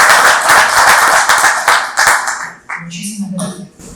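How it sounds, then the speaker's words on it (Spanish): An audience applauds at a book presentation, brisk clapping for about two and a half seconds before it fades out and a voice begins speaking. "a quien le recibimos con un fuerte voto de aplausos"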